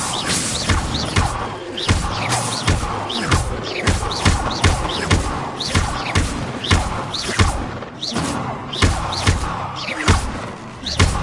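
The Incendio fire spell is cast repeatedly in a Hogwarts Legacy video game battle, a rapid, loud series of bursts and thudding impacts about every half second, layered over continuous combat noise.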